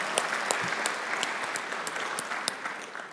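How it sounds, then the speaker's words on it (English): A graduation ceremony crowd claps for nursing unit clerk graduates, brisk dense applause with crisp individual claps popping out, steady and moderately loud through the short burst. "Let's have a round of applause for the nursing unit clerk graduates, September 2021."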